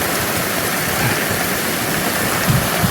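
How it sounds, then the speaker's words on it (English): Heavy monsoon rain pours down in a loud, dense, unbroken hiss that fills the whole stretch like a rushing waterfall, with no voices over it. "But it wasn't raining like this."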